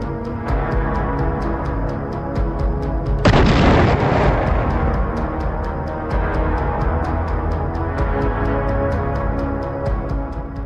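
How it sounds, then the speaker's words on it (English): A sudden heavy kamikaze drone blast erupts over Russian defensive positions in Pokrovsk, Donetsk, amid ongoing rumbling and crackling battlefield noise, with a rapid ticking rhythm running throughout. "striking with pinpoint accuracy, detonating directly above or within Russian defensive positions"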